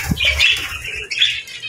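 Lutino opaline pet birds flutter and flap their wings in an aviary, quick close bursts of wingbeats mixed with faint chirps.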